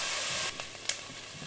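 Onions softening in hot fat in a pan for a mussel and saffron dish give a dense steady sizzle that suddenly drops to quieter crackles, with a couple of soft clinks or stirs afterward.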